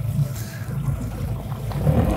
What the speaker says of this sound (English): the engine is going, we're up and running